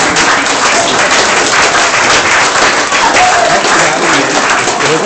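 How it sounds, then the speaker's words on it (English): A loud, steady round of applause from a group at a Christmas gathering, dense clapping continuing evenly for the whole stretch with no talk over it. "So give a round of applause."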